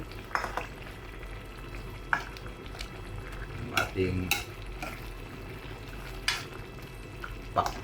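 Vegetables and meat, including moringa pods, stirred in a pan with intermittent scraping strokes and light clinks of a utensil over a soft background sizzle, with no talking.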